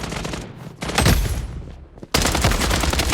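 Sustained automatic gunfire in the online shooter Blood Strike, dense rapid bursts that fade briefly near the middle and then return loud and close for the rest of the clip.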